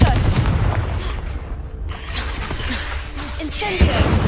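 Confringo spell blasts from Hogwarts Legacy: loud, booming explosive bursts with whooshing tails, one heavy impact after another in a dense, chaotic battle mix.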